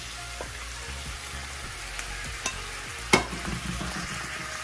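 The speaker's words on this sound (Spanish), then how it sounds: "Y de ahí vamos a incorporar el pollo." Chicken added to onions sizzles steadily in a pan, with a few sharp scrapes and clinks of stirring on top of the constant frying hiss.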